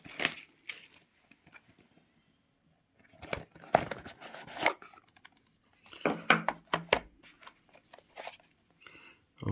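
Plastic wrap crinkles and tears as it is stripped from a Huawei FreeBuds 4i earbud box, coming in close, scratchy bursts separated by short quiet pauses.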